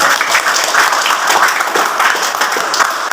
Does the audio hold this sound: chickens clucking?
no